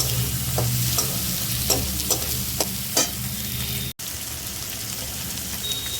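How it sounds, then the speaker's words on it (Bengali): Chopped capsicum being stirred in a frying pan, a steady close sizzle of oil with several distinct scraping strokes of a spatula in the first three seconds, then continued frying alone. "আর দেবো হচ্ছে ক্যাপসিকাম কুচি। এই আরও একটু নাড়াচাড়া করবো।"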